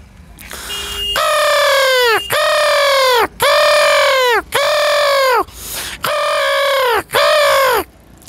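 A man imitates a crow with a series of six loud, harsh caws, each about a second long with short pauses between. The calls are close, and no other voices are heard.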